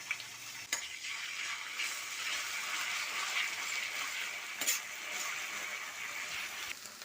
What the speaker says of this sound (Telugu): 1 స్పూన్ అల్లం వెల్లుల్లి పేస్ట్ వేసుకుంటున్నాను.